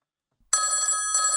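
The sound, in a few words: phone ringing in the video game Football Manager 2024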